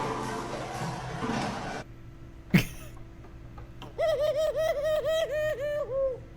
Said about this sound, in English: That's a pigeon.